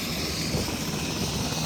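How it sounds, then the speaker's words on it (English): Virginia State Police and Tennessee military helicopters on the ground at a flooded hospital, a steady broadband rotor and engine roar filling the scene without talk. "2 Virginia State Police choppers here"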